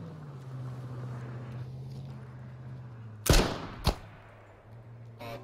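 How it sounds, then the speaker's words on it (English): Gunfire in the survival video game H1Z1 Just Survive: two sharp, loud shots in close succession over a steady low engine-like drone, then the background quietly returns. "Shots fired."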